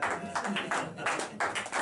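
An audience at a drum clinic with drummer Colin Bailey claps in brief, uneven bursts, close and fairly soft, with a voice speaking over the applause.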